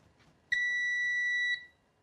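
A Seaward PrimeTest 250 PAT tester gives one clear, steady electronic beep of about a second as it is switched on, close and loud against a quiet room.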